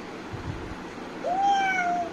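A young child mimics a cat's meow, giving one drawn-out, rising and falling mew near the end after a short quiet pause.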